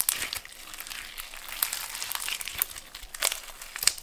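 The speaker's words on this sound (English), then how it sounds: "You just want to keep on kneading until you don't hear that sound anymore." Clear glitter slime squished and kneaded by hand, giving a continuous run of close, soft crackling and wet popping clicks with small bursts, no voices.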